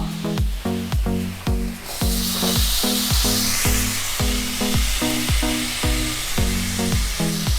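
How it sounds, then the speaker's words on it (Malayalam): Chopped tomatoes drop into chicken masala frying in a pan, and the sizzle swells into a bright, loud hiss over a steady rhythm of repeated stirring knocks, heard up close. "ഇനി ഇതിലേക്ക് നമ്മൾ 2 തക്കാളി ചെറുതായിട്ട് അരിഞ്ഞത് നമുക്ക് ഇട്ട് കൊടുക്കാം."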